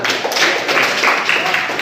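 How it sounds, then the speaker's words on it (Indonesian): Applause from a class of vocational high school students, a dense burst of hand claps filling the room at close range for a couple of seconds, with no talking over it. "Oke, tepuk tangan"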